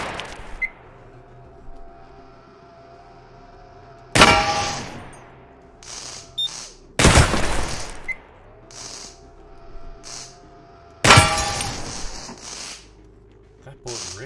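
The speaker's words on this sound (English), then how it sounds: "Ricocheted, that's what we've been hearing." Bullet ricochets in the shooting game Receiver 2: three loud, sharp metallic cracks spaced several seconds apart, each ringing off with a clanging tail, over a steady low hum with faint clinks between.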